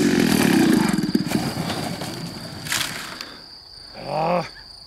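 A Pitts Special 1.5 m RC biplane with an RCGF 26cc gas engine flies past, its buzzing engine loud at first and then fading, with a brief voice near the end.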